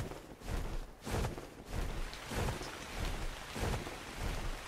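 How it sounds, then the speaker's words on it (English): Rainfall in a survival video game, with steady soft patter and pulsing gusts of rumbling, storm-like swells recurring about every second, fairly quiet and without voices. "Oh, it's raining."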